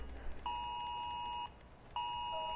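A phone sounds an Amber Alert emergency tone: two long, loud, harsh two-pitch blares separated by a brief gap, clear and close against quiet background noise.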